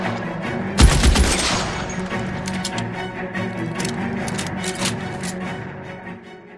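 Suppressing gunfire in LA Noire: a loud burst of rapid shots near the start, then continued scattered shooting and rattling fire under a game music and ambience bed, no talk.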